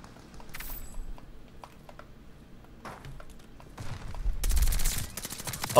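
An SMG fires in Call of Duty Vanguard, with scattered single shots and mechanical clicks first, then a loud, dense burst of rapid automatic fire near the end.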